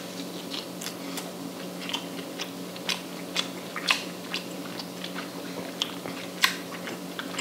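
Crunchy raw Australian salmon (kahawai) meat is bitten and chewed up close, a series of irregular crisp crunches and moist chewing over a faint steady hum, with no talking.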